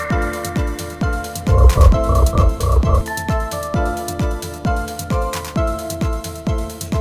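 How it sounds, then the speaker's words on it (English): A frog croaks in a quick run of throaty calls, set against a bouncy, steady children's phonics song beat that carries on throughout. "F for frog."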